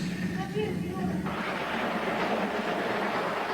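A passenger train rolls along a railway in Ecuador with a continuous rumbling roar, while a voice speaks over the steady noise.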